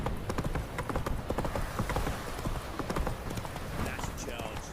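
Roach the horse gallops in The Witcher 3, with rapid rhythmic hoofbeats pounding close and loud throughout and a voice speaking over the run.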